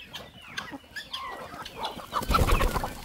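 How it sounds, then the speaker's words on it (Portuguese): Chickens cluck in a short, irregular series, with a louder burst of fowl calls and rustling near the end, fairly close in an outdoor farm setting. "muita galinha também"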